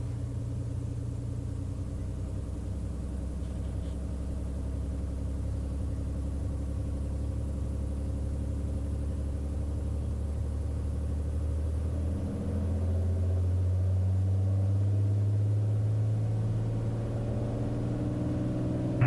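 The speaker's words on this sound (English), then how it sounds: "Power set, fuel flow is good, airspeed's alive, up we go." A Bonanza light aircraft's piston engine drones steadily and loudly on the runway at Boeing Field, then swells in power for the takeoff roll, with a deeper, louder rumble toward the end.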